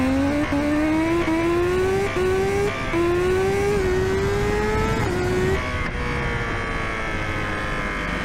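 A BMW S1000RR motorcycle revs loudly and up close, its exhaust note climbing in a series of rising pulls and short drops before settling into a steady high drone.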